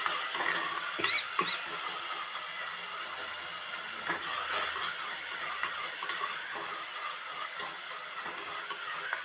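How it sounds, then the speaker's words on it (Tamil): Curry leaves and coriander frying in a pan, a steady soft sizzle with occasional stirring scrapes, continuous and fairly quiet. "கருவேப்பிலை கொத்தமல்லி சேர்த்து இப்போ வதக்குறோம்"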